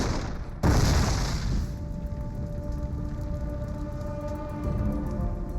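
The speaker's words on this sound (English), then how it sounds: "There's tanks being hit, bang, bang, bang, all over the place." A heavy boom from WWII tank cannon fire and explosions, followed by a dense, crackling rumble of distant fire and debris that keeps rolling on for several seconds.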